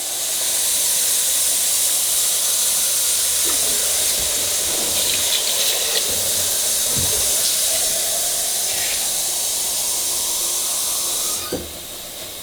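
Water poured into a hot pan of cheeseburger soup base with Worcestershire sends up a loud, steady steam hiss that runs continuously and drops off sharply near the end, with no speech.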